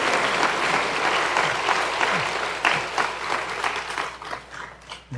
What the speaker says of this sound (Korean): 그 하나님 앞에 영광의 박수 한번 올리시길 바랍니다.